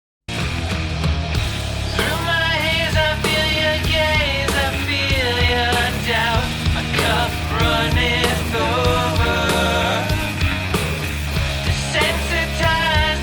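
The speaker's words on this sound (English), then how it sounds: "So with the guitar amp sim on the vocal track as an insert" Sung vocal track run through a guitar amp simulator and cabinet as an insert, giving a gritty, distorted, band-limited voice over a full, dense rock mix that stays loud throughout.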